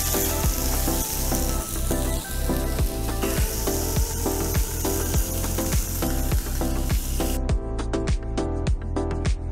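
A big skate wing fries in oil in a pan, giving a loud, continuous close sizzle with crackling pops throughout.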